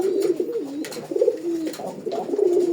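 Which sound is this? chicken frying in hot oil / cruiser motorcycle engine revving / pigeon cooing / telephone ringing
pigeon cooing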